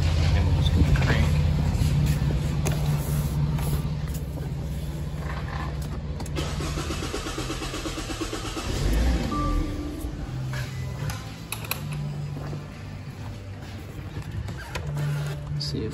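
A Hyundai Sonata engine cranks over steadily with a low, continuous starter-motor churn throughout, close and fairly loud, with no clear catch or start.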